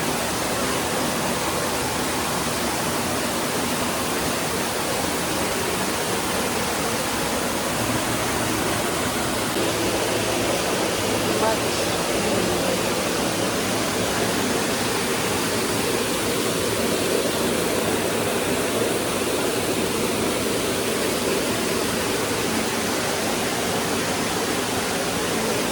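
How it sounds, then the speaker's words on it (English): Water in a hot tub jacuzzi bubbles and churns at a resort in Antigua, a steady, even rushing hiss that continues unbroken throughout without talk. "Over here you have the jacuzzi, and I have it all to myself."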